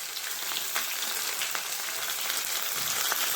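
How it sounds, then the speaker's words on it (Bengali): Chopped onion hits hot oil with whole spices, fenugreek seeds and cumin, while cooking a Bengali mutton dish: a steady, close crackling sizzle with scattered pops, no voices. "এবারে পেঁয়াজ কুচিটা দিয়ে দেবো।"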